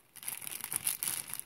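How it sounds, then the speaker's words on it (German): An opened crinkly bag of potato chips being folded shut by hand, giving close, continuous crackling and rustling plastic for over a second with no speech. "wenn ich jetzt die Tüte Chips verschließen möchte, dann falte ich die so."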